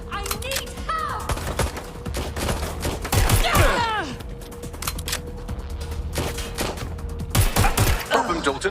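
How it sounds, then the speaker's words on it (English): Gunfire aimed at the player in the Watch Dogs: Legion video game comes in sharp bursts of rapid shots, loudest near the middle and the end, mixed with game effects while a voice speaks over it. "I'm getting shot at here!"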